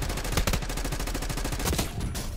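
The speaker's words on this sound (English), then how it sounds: "Enemy sniper shooting." Rapid, loud gunfire from a Black Ops 6 match, dense repeated shots crackling nearly nonstop for a couple of seconds with a brief lull near the end.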